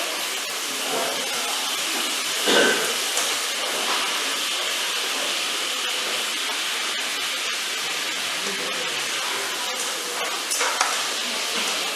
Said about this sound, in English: once the oil is heated, you throw the whole thing into it